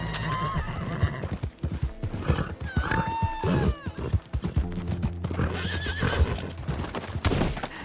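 Horse neighing and whinnying with steady clip-clop hooves of a galloping horse in the video game Red Dead Redemption 2, loud and close, with busy game sounds layered throughout.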